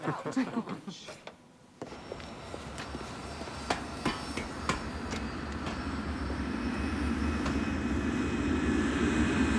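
Aircraft engines spool up steadily on a taxiway before takeoff, a rising broadband roar building over several seconds after a few sharp mechanical knocks at the start.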